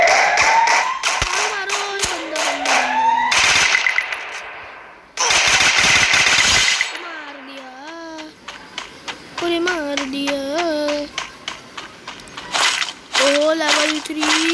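Rapid bursts of automatic gunfire crackle loudly from a shooting video game, in dense volleys and shorter repeated shots, while a voice talks over the action between and during the firing.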